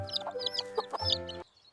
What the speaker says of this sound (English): Peep, peep. I like the baby chickens.